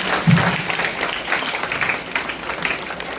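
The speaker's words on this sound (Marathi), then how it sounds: "टाळ्या वाजव देवाचा गौरव करा." A congregation at a prayer retreat applauds together, a steady wash of clapping from many hands filling the hall at moderate loudness.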